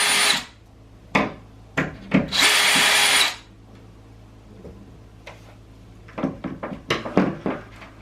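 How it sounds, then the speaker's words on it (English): Power drill boring out nails and small fittings from wooden doors, short loud whirring bursts and one longer sustained run, with tapping and clattering of tools and wood between them. "I just drilled out all of the nails and all of the little attachments"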